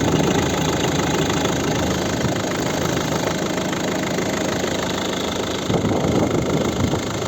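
The 1.6-litre diesel engine of a 2010 Volvo V50 with manual transmission idles steadily up close, a low, even, muffled rumble with no one speaking.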